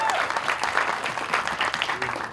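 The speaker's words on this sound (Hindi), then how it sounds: "सनी बाजी के लिए एक बार जोरदार ताली होनी चाहिए" Audience applause fills the hall at the Border 2 teaser launch, a short burst of dense clapping from a seated crowd, steady and fairly close, fading slightly at the end.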